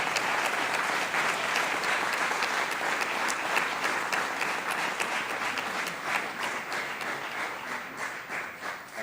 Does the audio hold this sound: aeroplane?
no